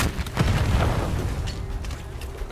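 A grenade detonates in a Black Ops 6 Search and Destroy match, a muffled low boom early on that rumbles and fades amid quieter game noise.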